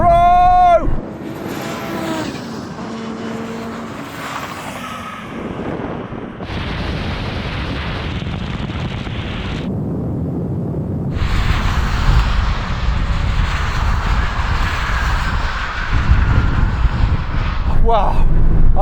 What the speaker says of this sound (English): Great launch from the rally car.